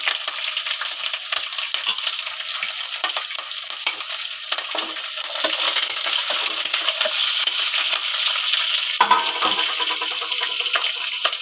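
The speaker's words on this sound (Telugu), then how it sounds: "తర్వాత వేగుతుంది కదా, చూడు చట్పట్లాడుతుంది." Dried red chillies and green chilli and ginger pieces crackle and sizzle in hot oil for a Telugu semiya pulihora tempering, a loud dense frying hiss with sharp pops, close and continuous.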